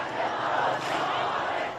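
Huge crowd of protesters demonstrating in the streets of Tehran, a dense continuous roar of many voices, loud and steady with no single voice standing out.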